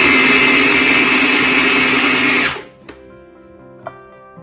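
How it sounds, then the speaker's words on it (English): A food processor chopping onions: a loud, steady motor whir for about two and a half seconds that cuts off abruptly, leaving near silence broken by a couple of faint clicks. "can always use a food processor if you have one"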